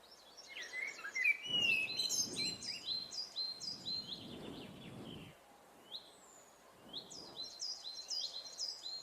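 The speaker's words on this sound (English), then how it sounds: "we got birds" Several birds chirping and trilling in bright, high-pitched bursts, with low rumbling background noise swelling and fading beneath the calls.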